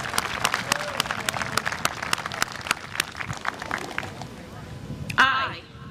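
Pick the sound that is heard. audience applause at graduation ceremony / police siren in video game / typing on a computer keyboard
audience applause at graduation ceremony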